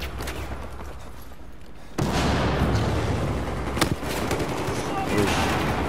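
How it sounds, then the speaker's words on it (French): A grenade goes off in Battlefield 4 with a sudden loud burst of noise partway through. Continuous battle ambience and scattered gunfire surround it. "Une grenade, hop."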